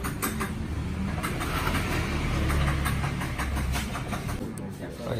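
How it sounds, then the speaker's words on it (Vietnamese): Yamaha Exciter 150 motorcycle, bored to 62 mm and built up to 175cc, idling steadily nearby with a rough, mid-pitched running sound that holds throughout, with some voices faintly audible. "sau đây là mình nổ máy con 150, nó lên 62"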